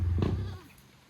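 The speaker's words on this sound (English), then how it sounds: "It's a nice goat." A goat bleats once, a short close bleat with a nasal tremor that fades quickly into quiet outdoor background.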